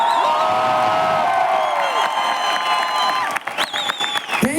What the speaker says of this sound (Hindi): एक बार डायरेक्ट दिल से जोरदार हल्ले गुल्ले के साथ तालियां बजाओ भाई